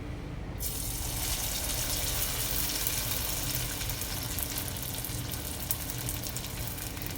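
Leftover dosa and appam pieces fry in hot oil, giving a steady, loud sizzle that runs unbroken and close throughout.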